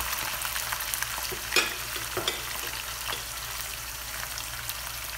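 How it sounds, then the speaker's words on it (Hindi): Onions and chicken frying in hot oil in a pan, a steady crackling sizzle with occasional louder spits and stirring sounds, close and continuous with no talking. "जब ऑयल गर्म हो जाए तो प्याज डालकर हल्का सा सौते कर लें। अब इसमें चिकन डालें।"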